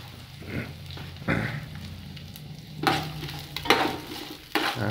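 Beef and pork discada sizzles in a pan with garlic and chili, a steady fry broken by several louder scraping stirs of the spoon, close and without talk.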